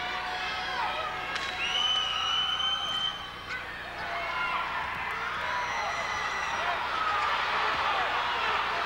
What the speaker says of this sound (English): Frederick-Hecla crowd wanting a foul on that little exchange